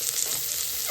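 Grated coconut roasting in a pan for a home meal, a soft, steady crackling sizzle close by with no talking.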